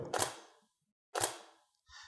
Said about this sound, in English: So the first shutter that I'm going to show you is 1/8000 and show you how quick that really is.